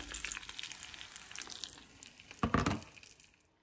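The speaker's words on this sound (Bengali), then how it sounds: "আমি আমার কাস্ট আয়রনের প্যানে মশলাগুলো ঢেলে দিলাম" Marinated spices tip into a hot cast iron pan and fry with a steady crackling sizzle, swelling briefly in a louder burst of spatter before fading away.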